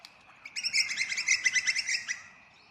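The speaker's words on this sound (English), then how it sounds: "There's two birds flying together, twiddling away." Two birds flying together let out a quick run of twittering chirps, a rapid series of bright high notes lasting about a second and a half, moderately near over faint background.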